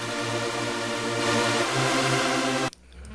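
Detuned saw-wave synth chord stack built in the Silent plugin and pitched an octave up, a bright, dense sustained chord with a shift partway, cutting off sharply near the end.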